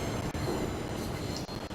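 A rail head treatment train heads toward the Gillingham depot with a steady, continuous rumble of wheels on track, broken by brief clicks of rail joints and a faint squeal, and no voices.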